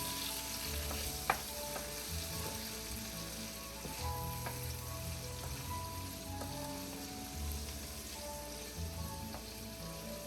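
Beef steak and bok choy sizzle steadily in a hot frying pan while a utensil stirs and scrapes, with occasional light clinks, no talking.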